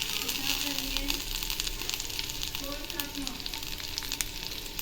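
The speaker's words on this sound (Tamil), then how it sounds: "கருவேப்பிலை போட்டுக்கலாம்" Curry leaves hit hot sesame oil in a pan along with garlic cloves, cumin, black pepper and popped mustard seeds, setting off a loud, dense, continuous sizzle and crackle, with some talk partly under it.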